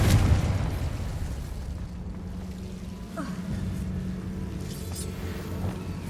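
A Confringo blasting curse goes off in the Hogwarts Legacy video game, opening with a loud booming explosion that decays into a low rumble and a lingering ambient drone, with faint later pops.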